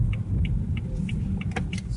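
Inside a 2013 BMW ActiveHybrid 3 on the move, a low steady road rumble runs throughout, with a faint regular ticking like a turn signal clicking above it, and no voices.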